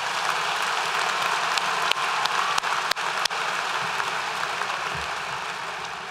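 A school awards-ceremony audience claps steadily for student athletes, a continuous wash of applause heard at some distance, with a few sharp isolated claps or knocks standing out partway through.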